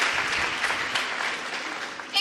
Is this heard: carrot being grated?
no